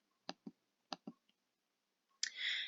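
Mouse clicks in a software visual editor: two pairs of sharp, close clicks, each pair quickly double-tapped, then a faint single tick, followed by a brief burst of other noise at the end.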